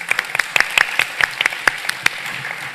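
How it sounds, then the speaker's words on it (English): Audience at a financial forum session applauds panelists with sparse, distinct claps building into a light, steady round, fairly close in a room. "let's give our panelists a round of applause"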